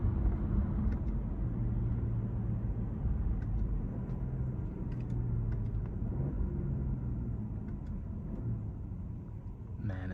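A car engine drones steadily at low pitch while driving, a muffled constant rumble with faint road noise and no voices.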